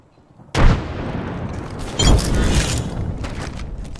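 Frag grenade blasts in Apex Legends: a sudden loud boom, then a second heavy blast about a second and a half later, each trailing into a rumbling, crackling decay at close range.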